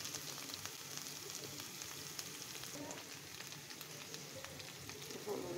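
Onion, ginger and garlic fry in a pan with ground cumin and red chilli for a beef curry. The sizzle is soft, steady and continuous, heard faintly from close by with no talking.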